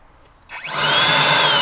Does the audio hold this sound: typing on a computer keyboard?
no